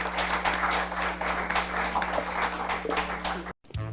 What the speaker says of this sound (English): Let us give them all a round of applause.